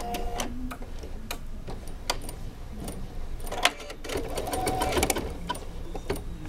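A Bernina 830LE sewing machine stitches a buttonhole, producing fast, steady mechanical ticking and whirring with brief louder clicks. It sounds close and continuous, with no talking.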